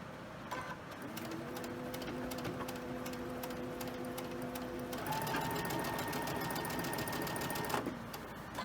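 Sewing machine stitching quilt pieces for an autumn leaf quilt block, a steady close whirring run with a rhythmic mechanical hum that shifts pitch midway, then stops near the end.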